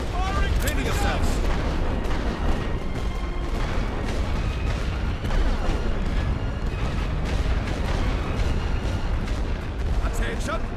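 In the Great War Western Front video game, an artillery barrage fires as dense, continuous rumbling booms that layer into a heavy roar with no quiet gaps, while game voices call out orders over it.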